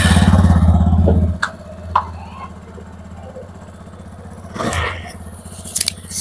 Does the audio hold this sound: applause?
no